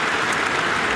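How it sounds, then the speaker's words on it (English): An arena crowd at a women's basketball game between Iowa and Purdue applauds, a dense, loud, continuous wash of clapping filling the whole moment. "in this building on their feet and applauding"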